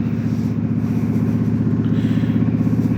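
A motorcycle on road 102 holds a loud, close, steady engine drone with a pulsing low rumble, and no other sounds break through.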